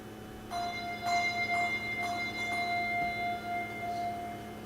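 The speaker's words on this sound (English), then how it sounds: "How about if I play one of these other bells?" A single handbell from a set of bells struck repeatedly, about seven clear ringing strikes in a loose rhythm, each with a bright sustained tone that decays slowly, close and fairly soft.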